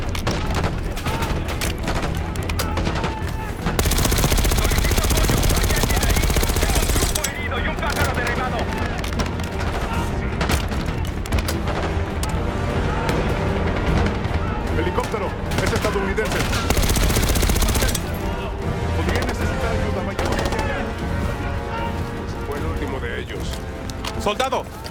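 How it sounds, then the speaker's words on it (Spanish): Heavy, sustained gunfire rattles almost nonstop in Call of Duty Black Ops 6, with bursts and booms layered in a loud, dense battle mix around a helicopter under fire and occasional shouted voices. "Recibimos fuego intenso en el helicóptero."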